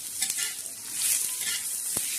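Coconut and crushed garlic roast in a hot pan, giving a steady bright sizzle and spluttering crackle, with a sharp scrape or pop near the end and no talking.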